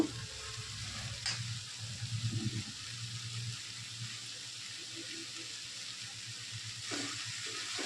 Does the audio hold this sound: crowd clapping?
no